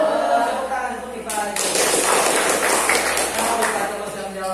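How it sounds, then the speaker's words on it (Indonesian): Classroom applause for a student who answered correctly, a burst of clapping from pupils starting abruptly and continuing steadily for a few seconds, fairly close and loud, with voices mixed in. "Tepuk tangan untuk Rinta."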